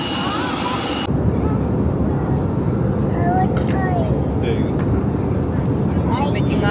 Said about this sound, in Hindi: क्योंकि प्लेन की आवाज़ बहुत तेज़ है और मैं शाउट कर रहा हूँ।